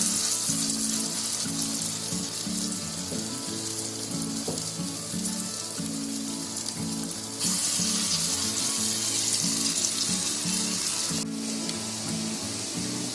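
Raw banana koftas fry in hot oil with a steady, loud sizzle that runs throughout, rising a little partway, while faint music plays low underneath.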